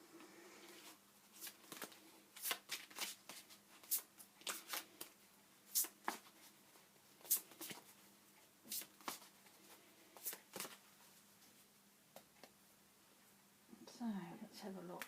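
A Guardian Angel oracle card deck is shuffled up close in quick, papery riffling bursts separated by pauses, soft and intimate, with faint murmuring in the background.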